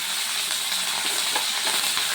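Lentils and curry leaves fry in a hot pan with a steady, dense sizzle and hiss that runs unbroken and fairly loud the whole time, with no voices over it.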